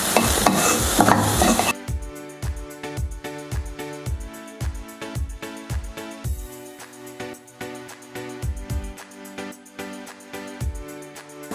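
Finely chopped garlic hits the hot pan with a loud burst of sizzling, then settles into a quieter fry while a spoon scrapes and stirs it in a steady, repeated rhythm.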